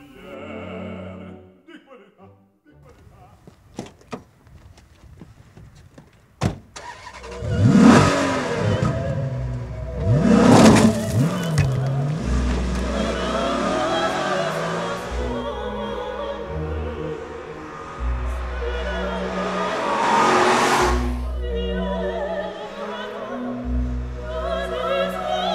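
An exotic Italian car engine revs in loud, sharp bursts, then keeps running steadily as the car drives on, with a few quieter mechanical clicks at the start.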